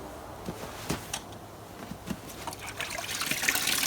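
Water trickles and splashes while blackened metal is rinsed, a soft, steady wash that swells toward the end, dotted with small taps and drips.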